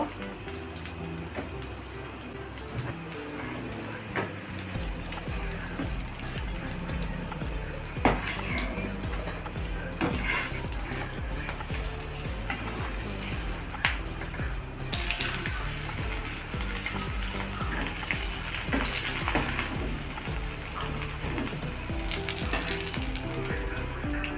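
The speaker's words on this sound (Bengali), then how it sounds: "মিডিয়াম আছে সবগুলোকে ভেজে নেব।" Ingredients frying in a pan over medium heat, a continuous hissing sizzle with repeated clatters and scrapes of a utensil against the pan throughout.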